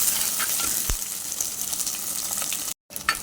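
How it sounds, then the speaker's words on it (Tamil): Small onions, curry leaves and green chillies fry in hot oil in a pan, giving a soft, continuous sizzle with occasional stirring clicks and a brief break near the end. "இப்போ வந்து வெங்காயம் பாதி அளவுக்கு வதங்கி வந்துருச்சு"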